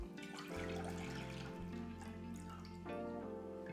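Creamy liquid is poured into a small saucepan for a keto pumpkin spice latte, giving a steady, continuous trickling and splashing pour heard close up without speech.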